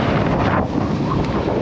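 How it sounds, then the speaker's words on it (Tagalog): Strong wind at Maliko Bikers Camp roars steadily across the microphone, a loud, unbroken buffeting rush with no voices. "Tatangin ka talaga ng hangin dito."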